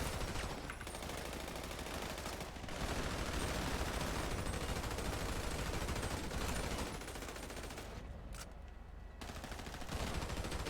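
A light machine gun fires in RageMP, a multiplayer mod for GTA V, in long sustained bursts. The shooting is loud and nearly continuous, with only a few short pauses between bursts.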